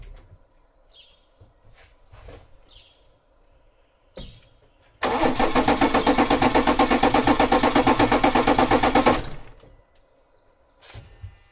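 BMW 3 Series 3.0 diesel engine with fuel system issues cranking on the starter, a loud steady whirring churn lasting about four seconds that begins suddenly after quiet clicks and stops without firing.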